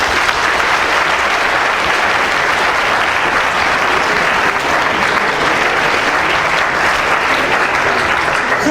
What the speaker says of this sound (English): So please, a big round of applause for all our speakers.